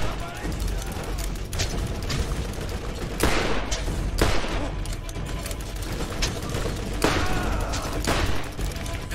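Gunfire from the video game Borderlands, dense volleys of shots with several sharp louder blasts, sustained throughout under a busy game soundscape.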